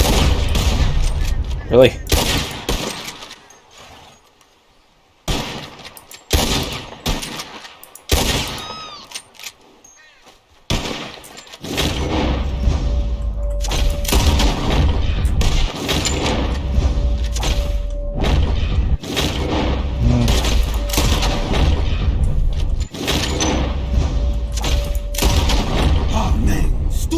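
Gunfire in the video game Red Dead comes in scattered sharp shots and thumps, then in a denser, steadier volley. A player's voice is heard briefly amid the shooting.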